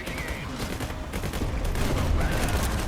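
Dense, continuous gunfire from the RTS game Tempest Rising, overlapping shots and bursts packed together in a loud, sustained fusillade with no pauses.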